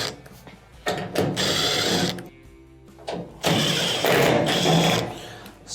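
A power screwdriver removes the 1/4-inch screws from the back of a washing machine's top panel. Several loud, close bursts of whirring are separated by short pauses.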